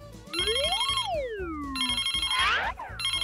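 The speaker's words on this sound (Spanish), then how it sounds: "Justo el teléfono está sonando." A phone ringtone plays as a cartoon-style electronic melody with swooping sliding tones over a pulsing repeated beat. It rings loud and clear with no talking.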